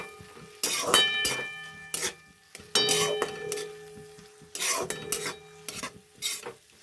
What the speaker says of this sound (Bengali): এর মধ্যে আগে থেকেই ভিজিয়ে রাখা মুগ ডালগুলো দিয়ে দেবো। সামান্য নেড়ে চেড়ে নেব।